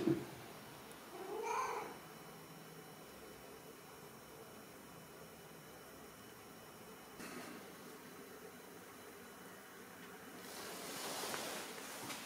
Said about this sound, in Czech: Bacha, kočka se chce socializovat.